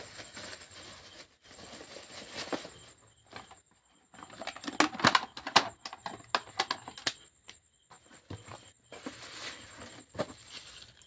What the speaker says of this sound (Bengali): প্যাকেট থেকে এরপর মিষ্টিটা আমি খুলছি